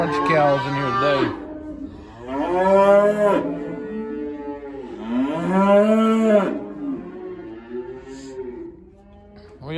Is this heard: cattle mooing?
yes